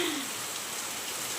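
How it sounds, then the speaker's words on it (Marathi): Heavy rain falling outdoors at a home: a dense, steady hiss of drops, fairly soft and even for a brief moment. "बघा चांगला पाऊस सुरू झाला बघा"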